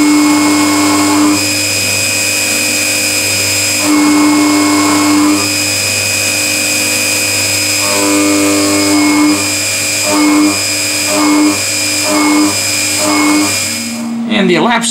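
Novakon Torus Pro CNC mill cutting aluminum with a two-flute end mill at about 78 inches per minute: a loud, steady whine with stable tones and spindle hum, the cutting pitch shifting in segments, with rising noise at the very end.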